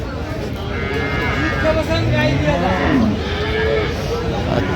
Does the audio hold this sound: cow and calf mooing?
yes